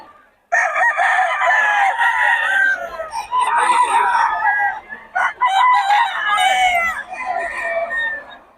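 A rooster crows loudly and repeatedly, its drawn-out calls following one another with only brief pauses, close by.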